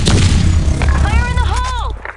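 Explosions from a grenade in the online shooter Blackshot roar as loud, continuous low rumbling blasts mixed with gunfire, with a voice calling out over the din.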